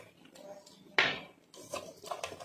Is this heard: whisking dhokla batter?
yes